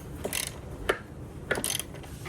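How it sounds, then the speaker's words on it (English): A ratchet wrench with an extension is turning bolts on an Audi hood latch, giving short bursts of clicking ratchet sound, three or four quick metallic passes, close and fairly clear. "And use a little wrench here with the extension."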